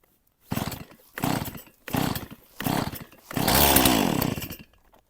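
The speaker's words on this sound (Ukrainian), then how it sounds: "Заводимо пилочку і розпочинаємо працювати." A chainsaw pulled four times in short bursts, then catching and running steadily for over a second before cutting off, loud and close, with no talk over it.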